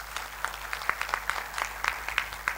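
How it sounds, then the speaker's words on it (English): Applause from the audience at a university convocation ceremony, a modest group clapping with distinct individual claps close by, steady across the moment. "Please join me in giving a warm round of applause to Mr."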